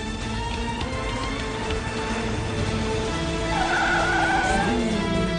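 A car accelerating with tires skidding, a steady engine drone that rises near the end with a squealing tire note, close and loud, alone without talk.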